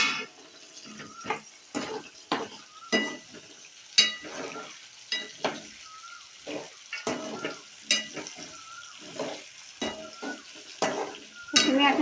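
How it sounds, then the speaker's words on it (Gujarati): Curry leaves crackle and sizzle in a hot pan, with sharp pops and bursts between quieter frying, stirred now and then with a utensil. "અને કરી પત્તા ને નાખી દો."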